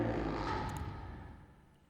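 A vocal double pitched down a little more than an octave plays on its own, a dark, murky low voice that slowly fades over two seconds.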